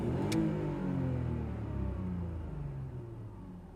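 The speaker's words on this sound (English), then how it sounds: "I do love how smooth the engine is. It's nice and quiet to tick over" A BMW E46 320Ci SE with a 2.2 six-cylinder engine idles smoothly, a steady low rumble with faint harmonic tones drifting downward, fairly close and unbroken, with one brief high click near the start.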